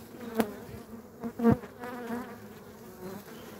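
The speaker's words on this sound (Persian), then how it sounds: "اینم از جمعیت زنبوره." A honeybee colony in a hive, fed sugar syrup, buzzes steadily throughout, with a few louder close passes of individual bees standing out from the dense hum.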